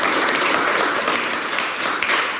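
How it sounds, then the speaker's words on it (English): Brief round of audience applause at a talk on creation myths, a dense steady patter of clapping from a room of listeners lasting a couple of seconds. "Big round of applause."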